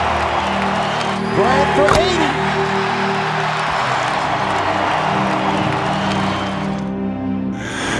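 A basketball arena crowd roars and cheers steadily during Kobe Bryant's free throws, a loud sustained wash of voices with a commentator talking over it.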